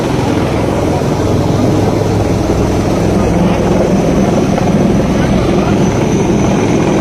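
A helicopter in an Indian Air Force ropeway rescue operation in Deoghar gives a loud, steady rotor and engine roar that fills the whole stretch without pause.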